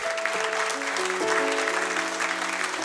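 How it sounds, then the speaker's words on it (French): Church congregation applauding together during a worship service, steady mid-distance clapping with a sustained musical tone lingering underneath. "Merci Jésus, on peut l'applaudir."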